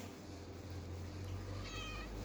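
A cat gives a faint, brief meow near the end over a quiet, low indoor hum.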